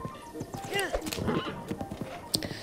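A horse in the video game Breath of the Wild whinnies with a rising and falling neigh over steady clip-clopping hooves, while people talk over it.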